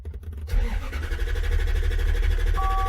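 A 1993 Lexus SC400 that cranks but won't start turns over with a steady, close, rhythmic churning of the starter, with no catch or revving, after a brief quiet opening.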